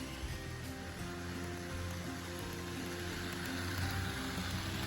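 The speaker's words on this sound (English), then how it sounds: "now let's get some shots of these trains running around the layout" Model trains, including a Fairbanks Morse diesel locomotive, run around a layout at a train show. A steady, close mechanical rumble and hiss carries on without a break, with a faint low motor hum underneath and no talking.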